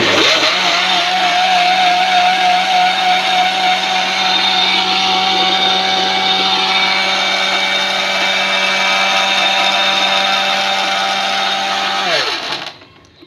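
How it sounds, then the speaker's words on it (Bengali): An electric blender grinds spices into powder, a loud steady motor whine with a constant droning pitch that runs without pause and then winds down and stops near the end. "একটু থেমে থেমে করবো, নাহলে ব্লেন্ডার গরম হয়ে যায়।"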